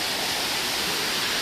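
Water cascading down the rock terraces of Terrace Falls in a Blue Mountains gully near Hazelbrook, a loud, steady, close roar of falling water with no pauses.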